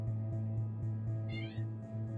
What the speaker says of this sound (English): Oh, was that my cat?